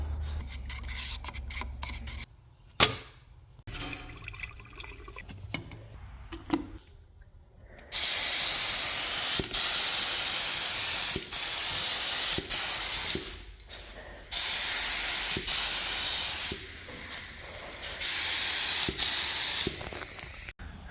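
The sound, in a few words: spray painting a Ford 9-inch rear axle smoke grey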